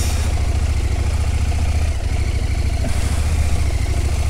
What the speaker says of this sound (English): Engine's going well in this.